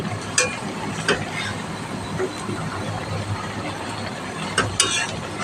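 Spices, kochur loti (taro stolon) and potato curry being stirred and sautéed in a pan, with steady close scraping and sizzling and a few sharper clacks of the spoon against the pot.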